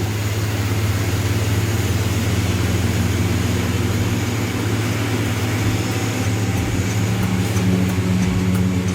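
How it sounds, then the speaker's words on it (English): Four Rolls-Royce jet engines of an Airbus A380 running during a cold-weather engine test at minus 30 degrees, a steady loud broadband roar with a deep low hum, constant throughout. "The A380's 4 Rolls-Royce engines must not fail."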